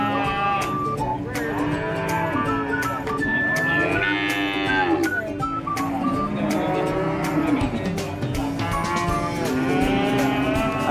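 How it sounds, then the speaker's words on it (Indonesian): Limousin, Brangus and Ongole-cross bulls at a livestock market, mooing over and over in long overlapping bellows, loud and close, with market commotion and faint voices in the background. "Inilah sekumpulan pejantan jenis limosin, brangus, atau pegon."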